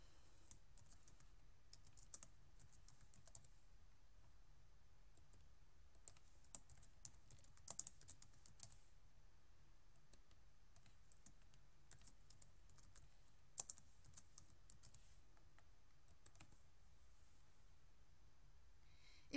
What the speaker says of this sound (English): To make a group, simply type the group name and click Add.